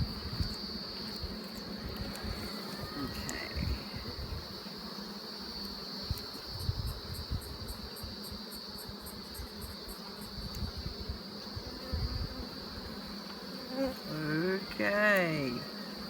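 Honey bees buzzing around an open Flow Hive during an inspection, a steady close drone of many wings with individual bees swooping past louder now and then.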